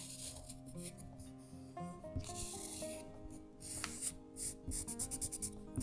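A charcoal pencil of mixed carbon and graphite scratches and rubs across printer paper, quiet close strokes that quicken into short rhythmic scribbles toward the end.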